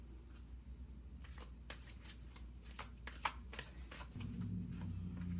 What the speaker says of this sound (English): I'll pick 3 cards from the angel answers.